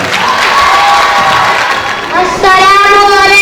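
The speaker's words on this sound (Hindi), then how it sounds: "पुरजोर तालियों से उनका स्वागत है।" Audience applause and cheering in a school hall at a Gandhi Jayanti programme as children come on stage to sing a group song; dense, steady clapping with crowd noise throughout, swelling louder and brighter near the end.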